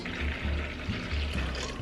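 Warm filtered water pours steadily into a bowl holding sugar and yeast, making a close, continuous splashing trickle that swells slightly in pulses.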